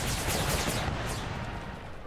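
Cannons and massed musket fire roar in an American Civil War battle game, a dense, continuous barrage of overlapping booms and crackling volleys that stays loud throughout.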